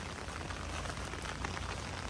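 Rain falls amid thick mist at the Kanjirakolli–Alakapuri waterfalls near the Sasippara viewpoint, an even, faint hiss of steady wash with no distinct drops or voices.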